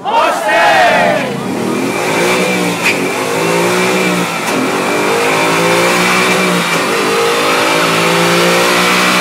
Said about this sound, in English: give me a very, very loud Mustang